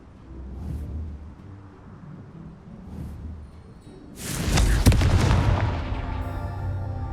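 Confringo fire spell exploding in Hogwarts Legacy: after faint rumbles, a sudden loud, booming blast bursts in, followed by a sustained crackling roar that slowly fades.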